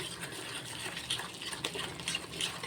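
Water trickles into a bowl of biscuit pakoda batter, a soft continuous pour with small splashy spikes, close and fairly quiet, with no speech over it.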